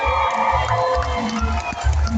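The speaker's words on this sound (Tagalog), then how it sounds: "isa pa ang malakas sa palakpakan na may hiyawan!" A crowd at a barangay community gathering in Trece Martires cheers and shouts loudly in a sustained, close roar, with applause blended into the din.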